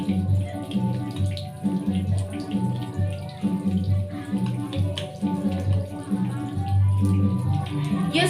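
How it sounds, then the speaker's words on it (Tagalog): Hands being scrubbed and washed under running water at a sink, a steady gush of water with rhythmic rubbing and friction sounds, moderately close, with a voice speaking over it. "Continue this friction motion for at least 15 seconds because the length of hand washing is"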